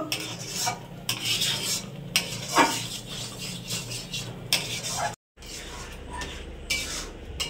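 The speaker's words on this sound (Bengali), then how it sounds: "এভাবেই আমি ফোটাতে থাকবো। আরো কিছুক্ষণ ফুটিয়ে আমি আরো গাঢ় করে নেব।" Milk thickened with milk powder for milk cake, boiling in a pot while a spoon stirs and scrapes the bottom and sides in repeated strokes, with a steady bubbling bed underneath and a brief gap near the end.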